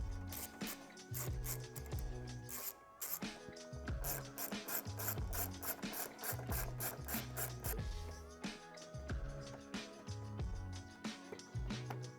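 Ratchet wrench clicking steadily while loosening and removing bolts from a body panel on a Honda Talon UTV, loud and close with rapid repeated pawl clicks in bursts and no talking.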